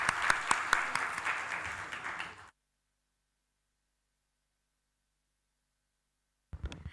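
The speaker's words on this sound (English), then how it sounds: "I request all of you to please carry this with a big round of applause" Conference audience breaking into a big round of applause, dense clapping for a couple of seconds, then a long silence before another brief burst of clapping begins.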